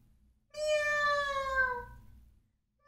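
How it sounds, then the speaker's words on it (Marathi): A domestic cat gives a single clear, drawn-out meow lasting about a second and a half, falling in pitch at the end, heard alone against a quiet background. "आणि मी आहे मांजर."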